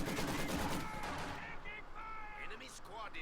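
Machine gun fire in the Company of Heroes 2 strategy game, rattling bursts and distant shots loudest at the start and easing off, with a voice speaking over the combat.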